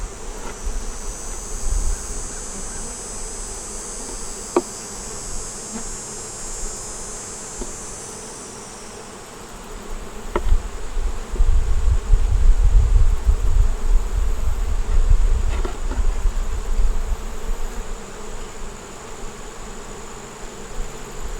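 Honey bees buzz steadily around a beehive, a continuous close insect drone with a bright high whine early on, later joined by a low rumbling undertone.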